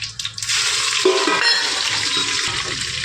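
Chillies hitting hot oil already crackling with mustard seeds, white sesame and cumin, giving a loud steady hiss and sizzle close up, with no talking.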